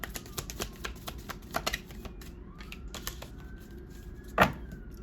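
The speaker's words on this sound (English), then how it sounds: "Do one more shuffle." Tarot cards shuffled by hand during a reading, giving a run of quick papery riffles and soft flicks, close and fairly quiet, with one sharper snap near the end and no talking.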